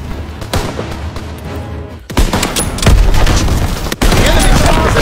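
Dense, loud battlefield gunfire and explosions from Call of Duty WW2 War mode, with rapid bursts of rifle and machine-gun fire and booming blasts continuing without pause, under a voice speaking.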